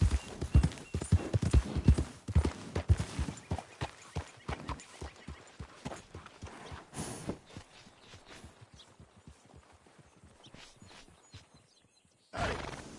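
Horse hooves clip-clopping in Red Dead Redemption II, a steady, fairly close run of hoofbeats that slows and thins toward the end before a brief louder burst, with an occasional faint whinny.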